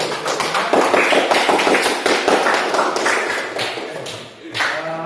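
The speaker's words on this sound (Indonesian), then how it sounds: "tepuk tangan sekali lagi untuk kelompok" Dense clapping from a school group applauding another class group, a continuous patter of many hands with no pauses, fairly close and steady throughout.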